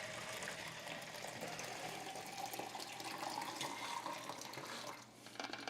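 Dark film developing chemical poured out into a sink, a steady continuous splashing pour that runs for several seconds and then eases off near the end.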